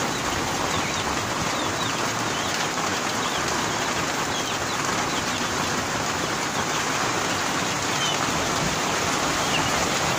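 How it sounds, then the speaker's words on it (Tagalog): Steady, heavy rain falls nonstop in a rural yard where hens are kept, a dense, loud, even hiss that fills the whole span without talk. "Kasi umuulan."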